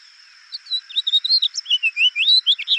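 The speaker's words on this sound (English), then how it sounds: "this one happens to be the house finch" A house finch sings a lively, warbling run of bright chirps and slurred whistled notes, close and clear over quiet background, with no talking.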